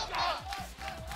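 A crowd at a Tekken 7 esports match in the 2022 Tekken World Tour Masters shouts and chants, loud and close. Massed voices swell and pulse together in a rough rhythm.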